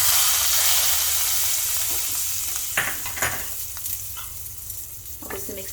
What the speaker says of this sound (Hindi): इसके साथ इसमें डालेंगे कश्मीरी लाल मिर्च और ये हमारा तड़का हमारे पालक में डाल देंगे।